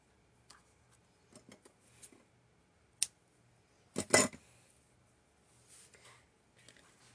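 Scissors trimming ribbon after a knot on a folded wedding card, a few faint handling taps, then a sharp snip followed by a louder double cut, close and otherwise quiet with no talking.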